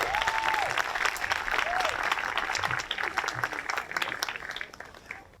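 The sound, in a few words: audience applause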